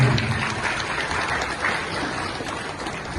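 An audience at a political speech to volunteers in Yogyakarta claps steadily, a dense, continuous patter of many hands at moderate distance that holds evenly through the short stretch.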